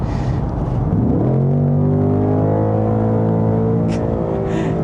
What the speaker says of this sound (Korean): 자연흡기 엔진의 사운드는